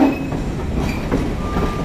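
A passenger train rolling along the tracks as it crosses Franklin Street, heard from on board as a steady, loud rumble with faint clicking wheels and brief high squeals.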